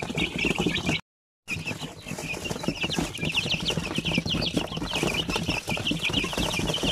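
A dense flock of chickens and chicks clucking and peeping steadily, high chirps layered over low clucks, with a brief dropout near the start.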